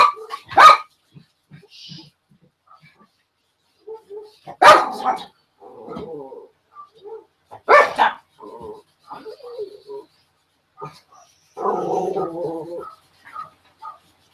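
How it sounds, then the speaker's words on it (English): Dogs barking outside, several sharp loud barks in separate bursts with quieter yips and whines between them in an otherwise quiet room. "And the dog has just barked outside."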